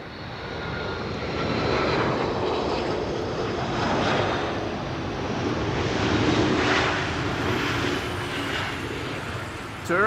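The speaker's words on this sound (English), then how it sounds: "A330, gently landing, butter, as they are almost always." A Turkish Airlines Airbus A330 lands at Amsterdam Schiphol, with a loud, continuous broadband engine roar that swells and holds steady throughout.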